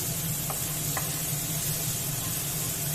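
Finely chopped onion frying in oil in a pan, a steady close sizzle with a low bubbling hum underneath and a couple of faint stirring taps, no talking.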